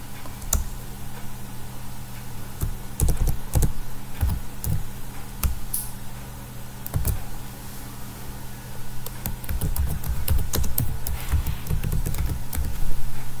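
Clicky keystrokes on a computer keyboard while HTML code is typed, in irregular bursts of quick taps with short pauses, heard close over a steady low background hum.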